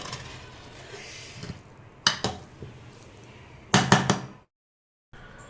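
A spoon works through freshly cooked tomato rice in a metal pot. Scraping is followed by two bursts of sharp metallic clanks and knocks against the pot. A brief silence falls before the stirring resumes.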